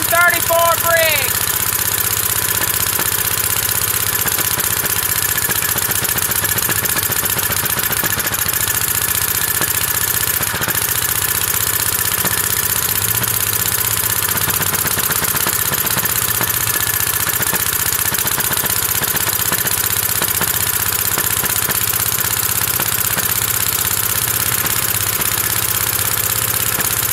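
A Briggs & Stratton Model Y engine, 86 years old, runs cold with a steady, loud mechanical chugging and irregular popping throughout, continuous and close.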